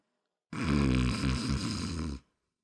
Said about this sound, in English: she began snoring again